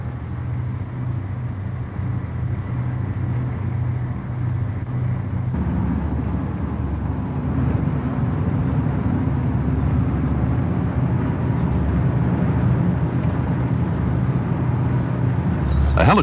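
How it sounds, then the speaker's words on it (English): Helicopter passing over the Mackenzie River in the Arctic, a steady low engine drone that holds at a constant loudness for the whole stretch, with a slight swell midway and no voices. "A helicopter on his way to ice patrol duty in the Arctic."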